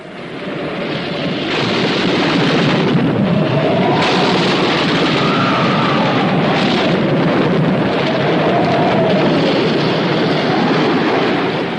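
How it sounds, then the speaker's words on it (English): A storm over the sea: roaring, gusting wind and churning water surge continuously, loud and turbulent, with waves of rushing noise rising and falling. "a storm rose furiously over the sea"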